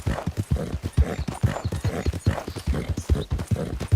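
Video game horse hooves clip-clopping steadily in Red Dead Online, a brisk regular rhythm of hard knocks close by, continuing throughout with no voices.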